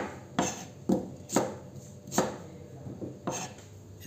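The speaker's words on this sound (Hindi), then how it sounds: "तो उसे काट देंगे ऑनियन को भी हम" A knife chopping onions and ginger on a cutting board for makhani gravy, about seven distinct close knocks at an uneven, unhurried rhythm, with no talking.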